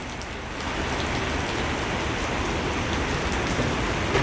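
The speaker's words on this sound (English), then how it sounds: "Fucking pouring down goddamn rain." Heavy summer rain pouring down in a dense, steady hiss of drops hitting surfaces, loud and continuous throughout, with no voices.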